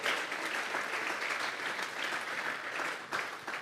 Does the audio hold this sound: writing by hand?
no